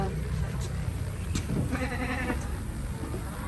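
A goat bleats among cows and other livestock in a village farmyard, a short wavering call heard midway through over a steady background hum, fairly faint and not very close.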